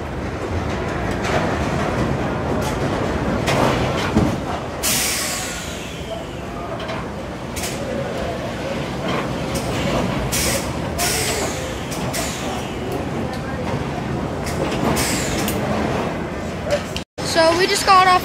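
Night ride on the Cornwall Express roller coaster at Indiana Beach, seated in the front row: a steady loud rumble of cars on the track with rattling clatter and hissing brake bursts. Riders' voices run through it.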